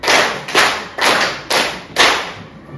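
A sixth-grade class claps together in a drilled classroom rhythm, five loud sharp group claps evenly spaced about half a second apart, with no talking.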